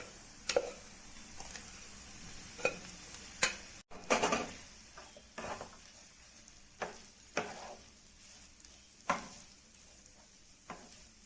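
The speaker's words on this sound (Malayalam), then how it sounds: "ഒരു അഞ്ച് മിനിറ്റ് ഇതുപോലെ ഫ്രൈ ചെയ്തെടുക്കണം ഇടയ്ക്ക് ഇളക്കി കൊടുക്കണം" Precooked beef frying with onions in a pan Kerala style, a faint steady sizzle broken by occasional scrapes and knocks of a spoon stirring against the pan.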